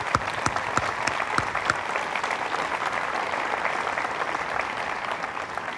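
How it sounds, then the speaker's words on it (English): A crowd gathered to honor veterans claps in sustained, dense applause at moderate distance, steady throughout with a few sharper claps standing out near the start. "let's give all of our veterans a big, warm round of applause for their service."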